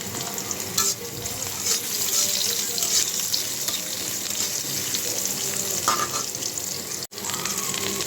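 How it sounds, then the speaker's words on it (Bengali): Onions and green chilies frying in oil with black cumin, a steady close sizzle throughout with occasional stirring scrapes and a brief cut near the end. "পেঁয়াজটা হালকা করে একটু ভেজে নিচ্ছি"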